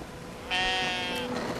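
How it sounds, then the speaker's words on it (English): A sheep bleats in the video game Brothers: A Tale of Two Sons, one long, wavering, nasal cry that swells and holds over a steady game background. "Okay, now we got sheep."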